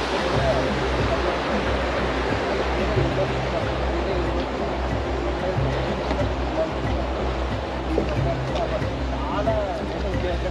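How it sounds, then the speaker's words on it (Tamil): Water rushes and flows continuously, a broad steady wash with no pauses throughout, in the Masai Mara. "இங்கே பாருங்க, தண்ணி அழகாக போகுது"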